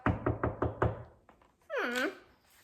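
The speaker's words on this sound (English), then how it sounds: "there was a knock at the door" Five firm knocks on a wooden door in an even, quick rhythm, close and clear, followed after a short pause by a brief voice.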